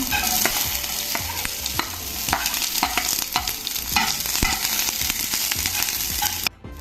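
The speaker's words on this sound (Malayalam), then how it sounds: "ടീസ്പൂൺ കടുക് ഇട്ട് കൊടുക്കാം നമുക്ക് ഒരു കറിവേപ്പില കൂടി കൊടുക്കാം ഒരു സവാള ചെറുതായി അരിഞ്ഞിട്ട് കൊടുക്കാം" Chopped onion frying in oil with mustard seeds and curry leaves, a loud continuous sizzle broken by frequent scraping stir strokes and spatula taps, close up, ending abruptly.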